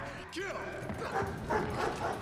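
A Belgian Malinois working on a film set gives short yips and whimpering barks, mid-distance and mixed in with people talking.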